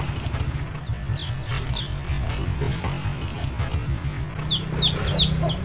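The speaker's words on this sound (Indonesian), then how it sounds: "Ayam ini marah, atau ayam ini tuh biasa ya ngamuk gitu ya." An agitated mother hen clucks close by in sharp, repeated bursts over a low background rumble, with quick clusters of calls near the start and a faster run toward the end.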